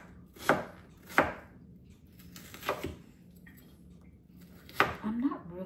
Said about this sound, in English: So I'll just chop the little onions.